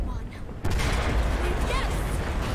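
Massive explosion in the Battlefield 4 single-player campaign on the Tashgar mission, a sudden loud blast that opens into a sustained roaring, rumbling wash of noise.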